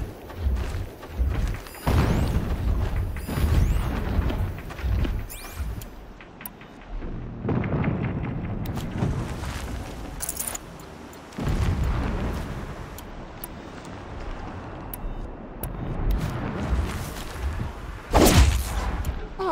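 Distant explosions in the video game Horizon Zero Dawn come as a series of booming, rumbling bursts at irregular intervals, separated by quieter stretches with no talk.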